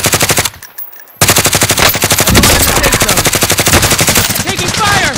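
Loud, rapid automatic gunfire from a Warzone trios match runs almost nonstop in dense bursts, broken by a brief lull near the start, with a voice calling out under the shooting.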